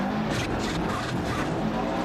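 A rally car slides through a handbrake turn on a gravel stage in Argentina in Dirt Rally 2.0, giving a steady, loud tire skid and engine roar that continues unbroken for about two seconds with no talking.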